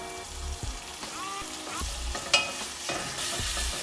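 Bacon frying in a pan for a homemade lasagna, a steady close sizzle with bursts of crackling fat and a few louder spatters, no talking.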